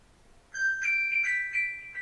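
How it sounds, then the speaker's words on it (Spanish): A mobile phone rings somewhere in a church audience, a bright electronic melody of repeating tones rising out of a quiet room and continuing for over a second. "Disculpen, hermanos, por ahí hay un teléfono."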